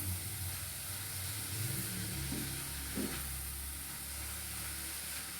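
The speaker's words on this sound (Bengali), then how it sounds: "একটু হালকা করে নেড়ে চেড়ে দিতে হবে যাতে মশলাটা ভালোভাবে গায়ে গায়ে লেগে যায়" Shredded cabbage and egg with spices sizzle steadily in a hot pan, with a couple of soft stirring scrapes standing out against the constant frying hiss and no talking.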